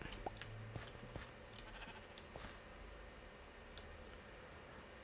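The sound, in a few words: sheep bleating in the video game Minecraft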